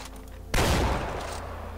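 Gunfire aimed at a sign in the video game Far Cry 4: after half a second of quiet, a sudden loud burst of rapid shots rings out and trails off into a lingering echo.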